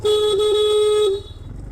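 A car horn honks loud and close in one sustained blast of about a second, then cuts off, leaving a low engine rumble underneath.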